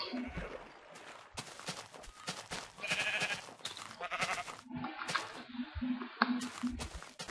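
Sheep bleat in the blocky survival game Minecraft, several short nasal calls scattered across the stretch amid game sound effects and small drip-like noises, with no talking.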